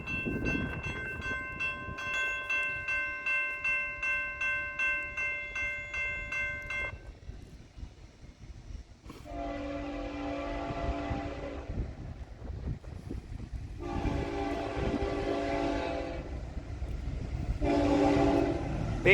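A Norfolk Southern freight train in Ohio sounds a loud multi-tone horn in long repeated blasts, with wheels and cars rumbling past close by throughout.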